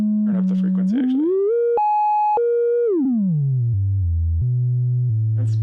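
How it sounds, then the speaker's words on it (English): A clean, pure sine-wave synthesizer tone through a WMD C4RBN filter glides and steps between pitches, smooth and steady, with brief bits of speech at the start and end. "It's pretty much a straight, clean sine wave"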